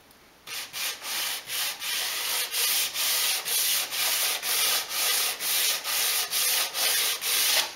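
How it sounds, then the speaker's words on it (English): Sanding block with medium-grade sandpaper rubbed gently over a varnished dolls house floor, giving a steady run of about fourteen close, rhythmic rasping back-and-forth strokes with no talking. "I've just got here a sanding block and a piece of medium grade sandpaper, and I just want to very gently go over the whole floor"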